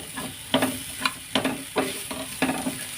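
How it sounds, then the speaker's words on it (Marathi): Mushrooms frying in butter for a cheese sandwich toast, with a low steady sizzle broken by repeated scraping stirs of a spatula in the pan at a roughly regular pace. "असं छानपैकी बटरमध्ये मशरूमला फ्राय करून घ्यायचं"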